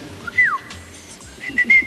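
Short whistled notes from a person answering a game show clue: a sliding tone, a pause, then two brief higher whistles, close and clear with no talk.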